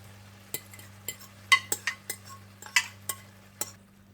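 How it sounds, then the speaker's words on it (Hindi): Egg poured into a pan of partly cooked onions for a Spanish omelette, heard as a run of short, close clinks, stirring scrapes and soft sizzles over a low steady hum. "और जब प्याज भी थोड़े से पक जाएं तो ऊपर आप अंडा डाल दें"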